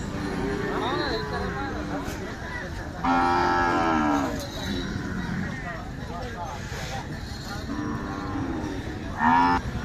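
Khillar cattle, including Kajali Khillar bulls, moo loudly at the Kartiki fair livestock market in Pandharpur, with several drawn-out calls rising over a busy crowd and steady talk.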